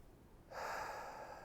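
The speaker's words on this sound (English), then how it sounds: "Let's take 5 deep breaths." A single long, deep breath drawn during a seated chair yoga session. It sounds as a soft, airy rush that starts after a brief quiet pause and holds steady to the end, close and fairly loud.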